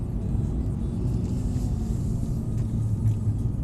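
A Mercedes-AMG 63 drives laps on a track, heard from inside as a loud, continuous low engine and road rumble with steady drone and no speech.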